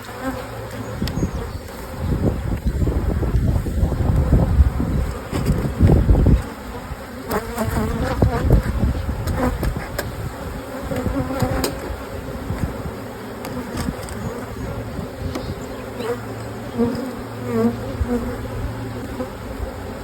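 Honey bees buzzing over the frames of a nuc hive, a dense, continuous hum up close with swelling and fading intensity and occasional handling noises.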